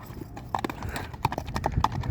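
Hooves of an Orlov trotter horse clop in a quick, steady trotting rhythm, close by and moderately loud, with faint background voices.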